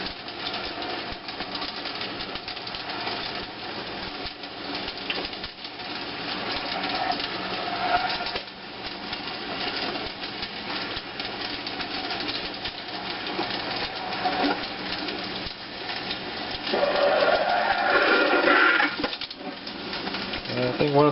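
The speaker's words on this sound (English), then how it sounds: "Kernels are starting to sizzle." Popcorn kernels sizzling with butter in a West Bend Stir Crazy popper, a steady hiss with a rumbling, rattling undertone and a few brighter crackles near the end.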